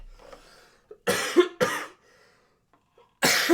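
Several coughs in quick succession: a pair of sharp, close coughs, then a pause and another loud cough at the end.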